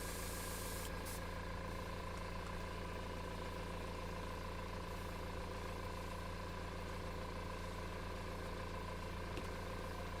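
An airbrush sprays thinned white paint in a steady, continuous hiss with a constant mechanical hum underneath, faint and unbroken throughout, with no voices.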